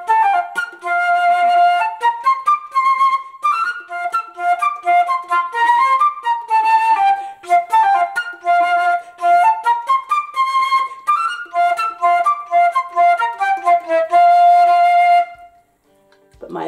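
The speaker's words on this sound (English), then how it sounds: "My flute's made of metal, and I'm going to play you a tune called Tambourine." Metal concert flute playing the tune Tambourine, a bright, lively solo melody of quick, clearly articulated notes and runs, close and steady, ending with a brief pause and a faint final sound.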